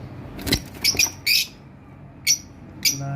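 Lovebirds at a bird farm give a few sharp, high squawking calls, close and loud, separated by short pauses, with a faint flutter of wings early on.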